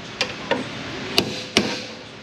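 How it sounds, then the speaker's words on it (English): Four sharp, separate metallic taps strike the metal piece of a car suspension bushing, unevenly spaced over about two seconds, each one close and distinct above a low background hum. "Let's tap on the metal piece of the bushing because it's starting to torque a little bit here."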